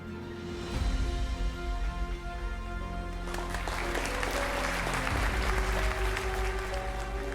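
An audience at a school investiture and awards ceremony applauds steadily for several seconds. The clapping rises and swells midway over a droning background of hall sound.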